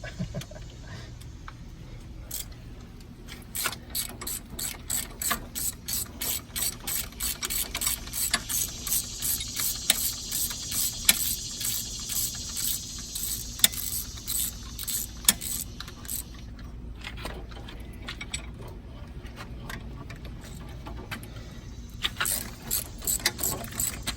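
A ratchet turns bolts on the head of a Detroit Diesel 671 engine, its quick rapid clicking running in long close runs with brief pauses between strokes.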